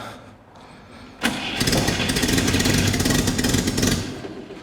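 A 1975 AZLK Moskvich 412 car engine, left in a shed for twenty years, cranks briefly then catches and runs loud and rough at a steady idle before easing slightly at the end.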